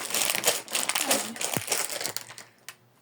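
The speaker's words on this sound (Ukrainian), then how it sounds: "Окей, відкриваємо Харіба, так?" A plastic packet of Haribo sweets being opened, with close, busy crinkling and crushing of the wrapper in irregular bursts that fade toward the end, a voice briefly audible underneath.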